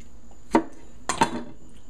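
A knife slicing through apples on a cutting board, two short sharp cuts about half a second apart with a wooden knock, close and clear in an otherwise quiet room.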